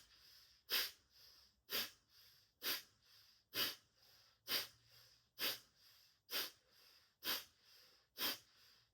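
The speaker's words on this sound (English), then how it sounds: "This is a nice combination of alternate nostril breathing and some Kapalabhati, breath of fire" Kapalabhati breath of fire during a meditation kriya set: sharp, forceful nasal exhales, about ten of them at roughly one per second, each a loud close-up whoosh with quiet inhales between.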